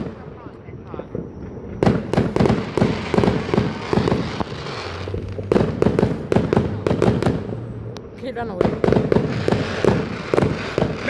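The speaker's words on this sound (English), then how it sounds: "Man, who's lighting up the fireworks?" Fireworks going off outside a house in rapid bursts of loud cracks and booms, close and continuous, with people talking and reacting over the blasts.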